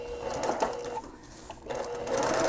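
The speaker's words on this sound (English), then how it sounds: "I'm going to stay stitch 1/4 of an inch along the top edge of the brim" A sewing machine runs stay stitching along the top edge of a fabric bucket hat brim, a close rapid mechanical chatter that pauses briefly midway and then resumes.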